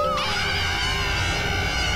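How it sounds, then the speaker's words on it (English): Bees drawn to honey syrup on a waffle make a loud, close, continuous whining buzz that holds steady throughout with no pause. "Those bees are definitely attracted to that honey syrup."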